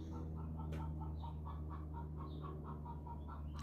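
A chicken clucks in a quick series of short, repeated notes at moderate distance over a steady low hum, with no talking.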